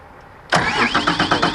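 The engine of a Nuhn crawler agitation boat is started by remote control: quiet, then an abrupt crank that catches and settles into a loud, close, rhythmically pulsing idle.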